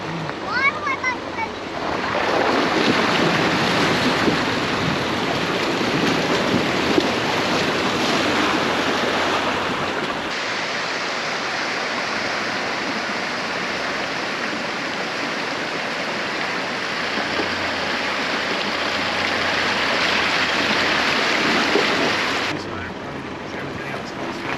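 Steady rushing water of a river flows beside a campsite in the Victorian High Country, a continuous broad roar that holds loud and even for over twenty seconds before dropping away.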